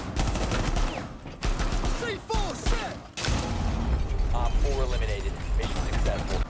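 Gunfire in the tactical shooter Rainbow Six Siege, with dense bursts of rapid shots and mechanical clatter running almost continuously under game effects, broken by brief pauses.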